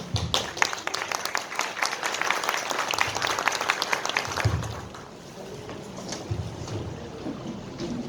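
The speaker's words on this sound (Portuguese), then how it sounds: "o professor Dr. Marcos Frederico Aleixo, com nossos aplausos." An audience at an academic lecture event claps to welcome a professor, with brisk, dense applause that fades after about four seconds into quieter room noise and scattered sounds.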